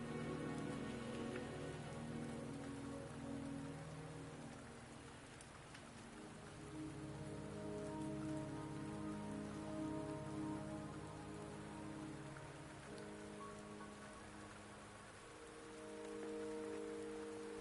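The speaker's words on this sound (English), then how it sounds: "Don't worry, the rain won't last much longer." Steady rain in a video game patters continuously, soft and distant, with a low droning tone running beneath it.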